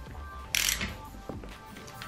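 A 13mm socket on a ratchet tightens a nut on a low seat frame in a Mk3 Focus RS, with a short burst of quick ratcheting clicks followed by a faint knock, close up.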